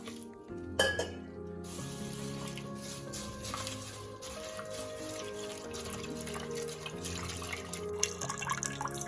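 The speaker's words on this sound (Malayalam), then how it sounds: "ഇനി ഇതിൽ വെള്ളം ഒഴിച്ച് കഴുകിയെടുക്കാം" Flattened rice (avil) is rinsed with water in a vessel for upma, with splashing, swishing and light clinks of the pot running continuously at close range, and no talking.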